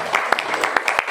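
Scattered clapping from a seminar audience at a marketing-plan presentation, a few distinct sharp claps over a thin, uneven patter, fairly close.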